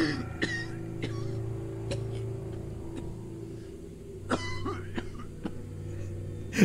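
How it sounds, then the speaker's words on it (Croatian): Coughing in a Serbian horror video game, with a few short, sharp coughs and throat clearing scattered over a low steady hum, one near the start and a cluster later. "prepoznajem svoj sopstveni kašalj"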